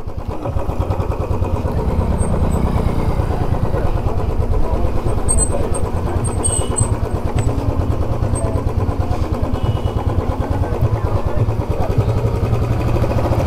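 A motorcycle engine idles loudly and close with a steady rumbling throb while the bike is parked for the night at a beach campsite, the running sound continuous throughout.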